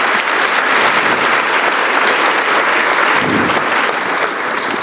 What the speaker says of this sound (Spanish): Y si lo creen, denle un aplauso grande y poderoso a su Dios